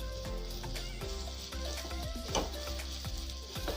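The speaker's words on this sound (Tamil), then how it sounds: "வெங்காயம்லாம் நல்லா ஃப்ரை ஆகணும்," Sliced onions fry in a pan for a pigeon pea curry, giving a steady close sizzle broken by regular scraping stirs.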